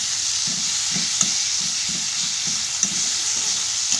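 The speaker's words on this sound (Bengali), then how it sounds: "আলুটাকে দিয়ে ভালো করে একটু নেড়ে নেবো," Potatoes sizzle steadily in a hot pan while a utensil stirs them in a regular scraping rhythm, with a couple of sharp clinks against the pan.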